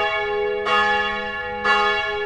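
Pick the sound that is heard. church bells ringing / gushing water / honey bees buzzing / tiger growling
church bells ringing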